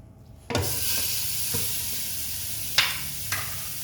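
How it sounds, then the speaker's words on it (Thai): Minced pork hits a hot pan and bursts into loud, close sizzling, with a few scraping stir strokes breaking through the steady hiss. "นำหมูสับมารวนค่ะ"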